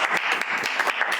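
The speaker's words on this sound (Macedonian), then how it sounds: "Ја мислам дека треба да даме една аплауз." An audience applauds during rehearsals for a television gala show, a dense, steady burst of many hands clapping at close range.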